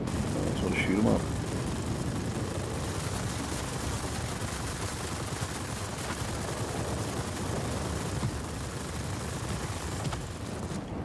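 Machine gun fire from a YP 29 fighter plane in World of Warplanes, dense rapid bursts blended into a continuous roaring engine wash, loud and sustained throughout.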